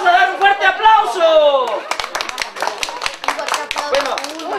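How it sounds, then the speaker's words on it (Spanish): An audience at a clown show breaks into loud applause, dense overlapping claps building for several seconds after a brief stretch of voice. "vamos a dar un fuerte aplauso."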